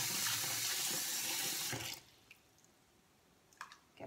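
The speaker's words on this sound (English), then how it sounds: "I'm going to fill it with some cold water." Cold water from a kitchen sink faucet rushes steadily into a bowl for about two seconds, then the tap shuts off, leaving a few faint drips and clinks.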